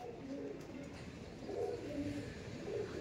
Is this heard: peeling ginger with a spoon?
no